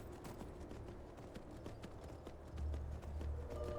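A horse gallops in the video game Skyrim, a steady rapid clip-clop of hooves close by over low rumbling ambience, growing a little louder toward the end.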